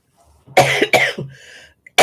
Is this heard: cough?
yes